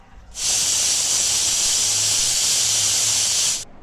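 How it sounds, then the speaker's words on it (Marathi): A pressure cooker cooking vegetable popati lets off a loud, continuous jet of steam that hisses for about three seconds, then cuts off abruptly. "फायनली कुकरच्या तीन शिट्ट्या झालेल्या आहेत"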